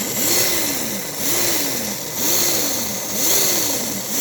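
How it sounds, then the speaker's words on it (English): Electric motor of an American Flyer Pacific toy locomotive, its chassis fitted with a ball-bearing drive axle and armature worm shaft, running close with a whirring hum that rises and falls in four repeated throttle cycles. "what I like to know is the throttle response of the motor"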